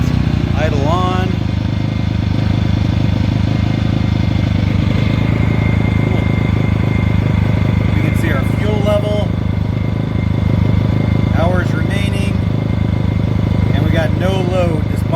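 Ryobi (Ducar) 1800W/2300W inverter generator engine idling with no load, a loud steady drone with strong low harmonic bands throughout, while a person talks briefly over it.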